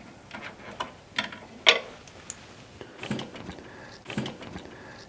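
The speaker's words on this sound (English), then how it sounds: "the first thing we're going to do is remove our bobbin case" A bobbin case is taken out of a Brother PR series embroidery machine, a handful of small, close plastic and metal clicks and taps spaced irregularly over a few seconds, with a sharper snap near the beginning.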